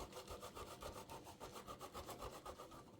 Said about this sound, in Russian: 100 грамм твердого сыра натираем на терке